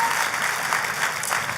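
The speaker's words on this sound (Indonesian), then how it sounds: "Kasih tepuk tangannya yang paling meriah." A congregation applauding during an evening prayer church service, a brief burst of dense, lively clapping that fills the room at an even level.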